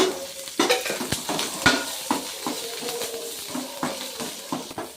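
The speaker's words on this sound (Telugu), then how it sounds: "ఇలా వేగాక బాగా వేగాలండి, పచ్చికనం పోవాలి." Peanuts frying in oil in a pan for a Telugu peanut chutney, a steady sizzle broken by repeated scraping and clinking as a spoon stirs them, close and fairly loud with no talking.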